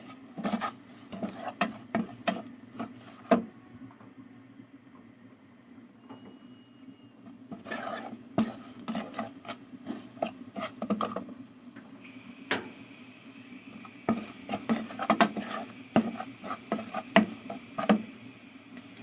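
A spoon stirs rice soup in a pot with scattered light scrapes and metallic clinks, quiet and close, in irregular bursts with pauses between.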